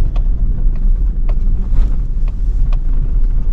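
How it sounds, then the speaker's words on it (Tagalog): Steady road rumble of traffic passing on a busy provincial road, with low broadband engine noise and wind buffeting throughout and brief higher whooshes of vehicles going by nearby. "Yung maraming sasakyan oh"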